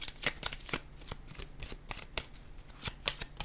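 Playing cards shuffled and laid down one by one during a French card reading, a series of quick crisp flicks and soft slaps close by, spaced irregularly with no talking.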